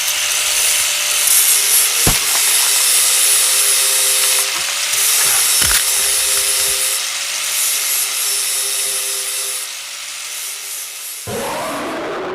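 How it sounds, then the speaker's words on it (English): In the Poppy Playtime video game, a plastic toy is ground into shreds, producing a loud, steady grinding and rasping drone with occasional sharp cracks. Near the end the grinding cuts off abruptly. "The toy gets grinded more until it fully gets ripped to shreds."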